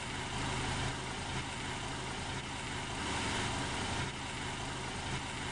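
A car engine drones steadily while driving, with broadband road and engine rumble filling the background at a constant, moderate level and no voices.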